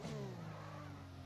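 An F1 2021 race car in a racing video game brakes hard into turn 1. The loud engine drone falls steadily in pitch over about a second, with no voices.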